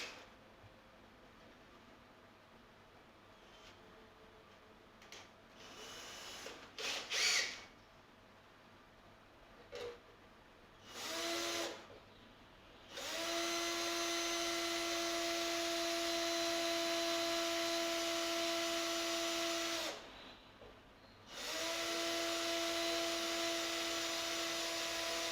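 Small power drill with a slightly blunt 1.5 mm bit working a cookie-tin ukulele build, short bursts then two long steady high whines separated by a brief pause, close and fairly loud.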